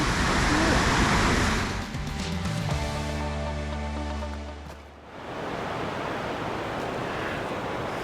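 Rushing waterfall rapids at Ohiopyle, Pennsylvania, roar as a loud continuous wash of water, broken midway by a few seconds of humming tones before the steady rush returns.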